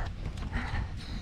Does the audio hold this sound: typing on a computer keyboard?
no